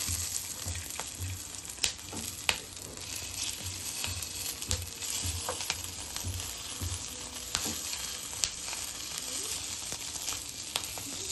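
Green chillies stuffed with besan fry in a pan of oil, giving a steady, close sizzle with occasional pops and stirring scrapes, and nobody speaks.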